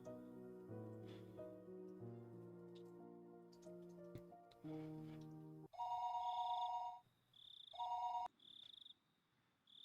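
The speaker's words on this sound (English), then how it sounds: "you have a phone call" An old-style telephone rings in the video game Higurashi no Naku Koro ni Rei, repeated electronic bell bursts cutting in after a soft melodic music passage, with no talking.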